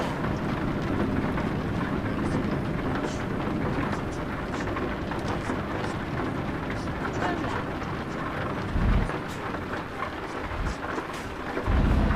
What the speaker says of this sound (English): rain's beating down.